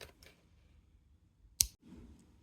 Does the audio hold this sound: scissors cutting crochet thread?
yes